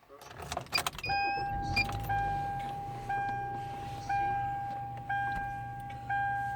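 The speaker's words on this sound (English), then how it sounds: "I'm gonna start the car up so y'all can see" A Kia Optima is switched on. A short burst of ignition noise is followed by a steady low hum and a regular series of electronic chime tones, about one per second.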